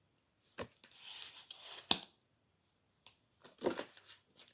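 Tarot cards are shuffled in short bursts of riffling and rubbing, quiet and close, with brief pauses between the flurries.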